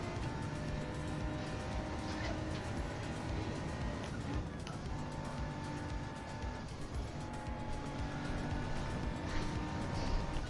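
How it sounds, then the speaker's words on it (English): An Indy car racing at a racetrack, its engine drone steady and loud throughout with no letup, a voice faintly audible beneath the mechanical roar. "Oh, it's an Indy car."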